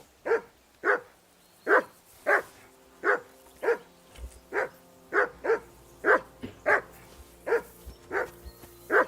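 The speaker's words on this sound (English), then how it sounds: "that barking was a pain in the ass" Dog barking in the video game Kingdom Come: Deliverance II, a steady run of about fifteen evenly spaced, sharp barks at moderate distance, continuing without pause for several seconds over a faint ambient hum.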